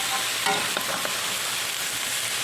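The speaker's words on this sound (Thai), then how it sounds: "ผัดให้หอมหอม" Steady sizzling and scraping as ingredients are stir-fried in a pan for pickled mustard greens soup with pork bones, pork belly and shiitake mushrooms, a continuous crackling hiss with a few soft stirring knocks.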